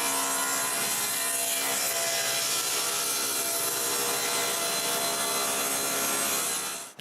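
A saw rips an epoxy-filled wood board to size, a steady, loud, continuous cutting rasp that runs unbroken for about seven seconds before cutting off sharply at the end.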